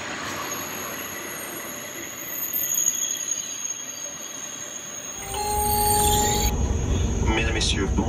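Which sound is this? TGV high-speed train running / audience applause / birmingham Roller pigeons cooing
TGV high-speed train running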